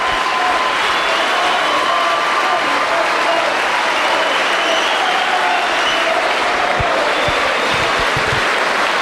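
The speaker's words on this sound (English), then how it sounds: "And applause all round the ground." Sustained, dense applause from a large stadium crowd at a rugby legends game, steady and loud throughout, with a broad roar of many hands clapping at once.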